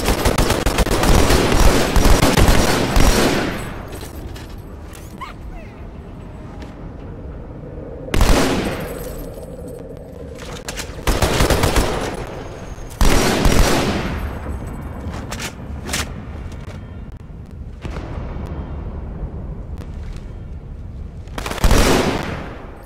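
Turret gunfire in Halo 2: Anniversary, a long loud sustained burst at first, then several shorter heavy bursts spaced apart with quieter gaps of game ambience between them.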